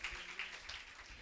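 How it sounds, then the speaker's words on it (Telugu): A congregation at a Sunday church service claps together, producing a dense, even patter of hands that sounds somewhat distant and subdued. "గట్టిగా చప్పట్లు కొడుతూ దేవుని మహిమపరుద్దామా ఒకసారి"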